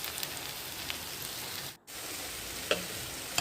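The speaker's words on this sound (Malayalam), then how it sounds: "ഇഞ്ചി ചേർത്തിട്ട് ഒന്ന് നന്നായിട്ട് വഴറ്റിയെടുക്കാം." Ginger sautéing in a pan for a beef and potato curry, a soft steady sizzle and crackle throughout, fairly quiet with a brief gap midway.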